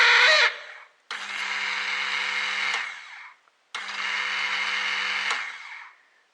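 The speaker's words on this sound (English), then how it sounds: "That starter wasn't really particularly happy, but it seems to be working, so it's maybe a little bit slower" A Honda CBR 929 motorcycle starter motor runs on a bench, powered straight from a battery, in two steady whirring bursts of a few seconds each after a short opening whir. It sounds somewhat slow and strained, loud and close, with no talk.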